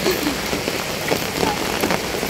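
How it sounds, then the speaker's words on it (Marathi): Heavy monsoon rain falls steadily and close by, a dense continuous hiss of drops striking surfaces, with faint voices in the background. "तुम्हाला बॅक कॅमेऱ्याने दाखवते किती पाऊस आहे"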